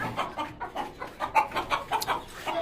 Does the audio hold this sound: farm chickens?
yes